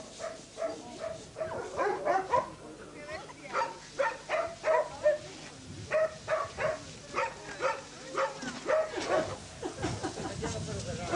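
Dogs bark at an animal shelter, a steady series of rhythmic barks and yips from several animals spread across the clip, moderately distant, with a voice speaking at times.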